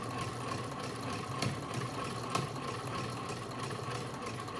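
An antique sewing machine runs with its shuttle sliding back and forth, giving a faint, steady mechanical whir with soft rhythmic clicking throughout.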